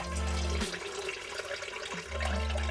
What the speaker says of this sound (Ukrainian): я зливаю воду